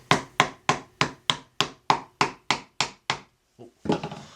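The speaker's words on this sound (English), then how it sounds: "little dead blow hammer here, mallet" Dead blow mallet tapping a wooden through dovetail joint together, a steady run of about twelve crisp, close knocks at even pace, then a pause, a softer tap and a brief rubbing scrape of wood.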